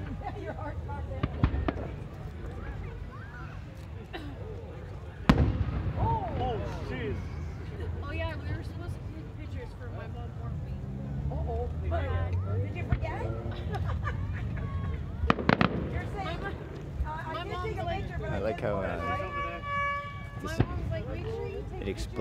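Fireworks at a Victoria Day display in Peterborough, Ontario burst as repeated booms and crackles, with a sharp loud blast and scattered pops, set against a crowd's steady murmur and chatter.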